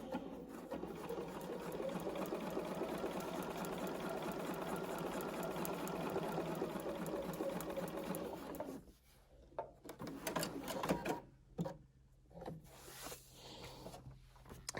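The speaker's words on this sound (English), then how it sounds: "I will continue to sew the seam to the left" A sewing machine stitches a seam on a foundation paper pieced log cabin quilt block, running in a steady continuous whir for about nine seconds, then stopping and restarting in short bursts with handling noises.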